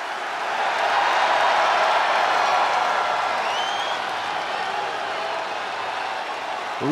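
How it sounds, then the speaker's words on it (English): Arena crowd ovation for WWE wrestler Bianca Belair in a wrestling video game, a dense sustained roar of cheering and applause holding steady throughout at moderate loudness, with no talk over it. "Listen to this ovation. The WWE Universe loves cheering on the EST."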